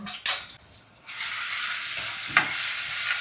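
Green paste of chili, coriander, ginger and garlic sautés in a pan, hissing as it hits hot oil, with clinking stir strokes and a steady sizzle afterward, no speech.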